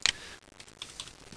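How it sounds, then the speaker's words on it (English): A few quick, light keystrokes tap on a computer keyboard, soft and close, as changes are typed into a document, with no talking. "you type in your changes"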